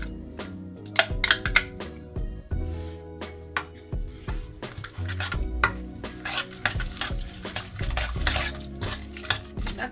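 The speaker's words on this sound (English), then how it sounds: "So it's time to mix the ingredients together." Pumpkin pasta sauce ingredients being stirred together in a pan, with repeated clinks, scrapes and soft wet stirring over steady background music.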